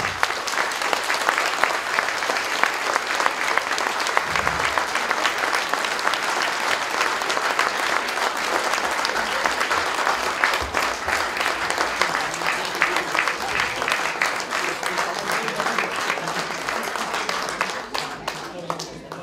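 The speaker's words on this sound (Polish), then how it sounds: "Państwa prosimy o duże brawa" Sustained loud applause from an audience at an auction or award event, dense clapping filling the whole stretch and tapering slightly at the end, with some voices faintly underneath.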